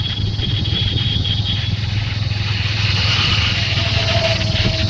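Motorcycle engine running steadily while being ridden on a road during Muharram festivities, a continuous low rumble with wind noise, loud and close throughout.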